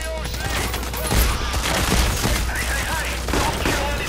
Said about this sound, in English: Here's where my shotgun comes in handy.